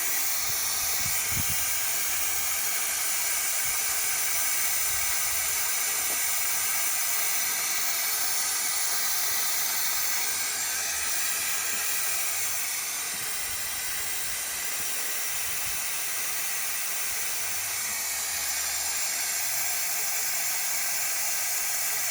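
An oil evacuator drains engine oil from a Mercedes-Benz, producing a constant loud hissing, sucking rush of air and fluid that continues unbroken, with no talking.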